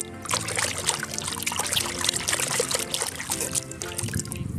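Splashing and trickling water as a toy elephant is dunked and washed, a steady busy wash of liquid sounds at close range with no voices.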